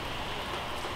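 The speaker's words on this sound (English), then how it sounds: "It's raining, so I'm not gonna get like all the way out here." Rain falling outside a car dealership, a steady dense hiss of drops alone with no voices.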